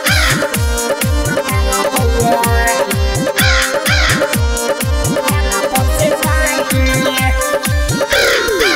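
A Bol Bam devotional song with a steady thumping beat and layered music, where a crow's caw is part of the loud, rhythmic track.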